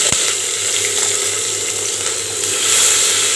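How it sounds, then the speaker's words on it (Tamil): Cinnamon, cloves, cardamom and bay leaf sizzle in hot oil as a steady, close, bright hiss with a short crackle near the start. "பட்டை கிராம்பு ஏலக்காய் பிரிஞ்சி இலை எல்லாத்தையும் போட்டு தாளிச்சிக்கிறேன்"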